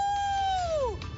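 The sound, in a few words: person imitating a wolf howl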